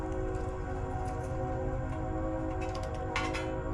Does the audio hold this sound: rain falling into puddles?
no